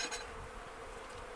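Honey bees swarm around an open beehive during a hive inspection at an apiary, giving a steady, close insect buzz that holds evenly through the whole short stretch with no talking.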